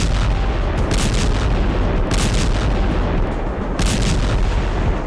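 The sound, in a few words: artillery fire and explosions in Ukraine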